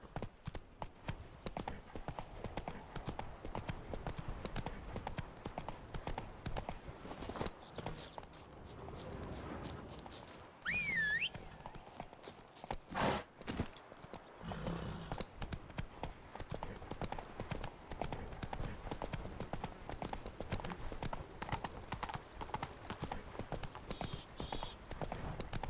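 Horse hooves clip-clopping at a trot in the video game The Witcher 3, a steady rhythmic beat on hard ground that continues throughout, briefly joined by a whinny near the middle, with a little speech.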